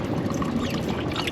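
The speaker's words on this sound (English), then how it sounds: "What's better than a little USB water pump" A small USB water pump drains melted ice water from a cooler, giving a steady close gurgling pour and trickle that runs without a break and without talk.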